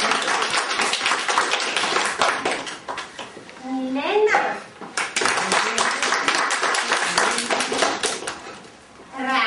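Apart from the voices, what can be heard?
audience clapping for children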